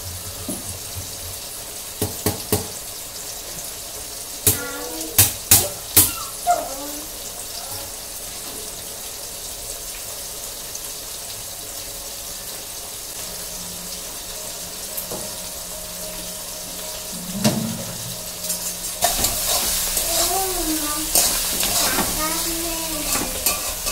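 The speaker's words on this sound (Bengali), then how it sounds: "মাছটা ধুয়ে নি" A kitchen tap runs in a steady stream while fish is washed under it, with scattered clinks and splashes of handling, a louder splashing stretch near the end, and no talk.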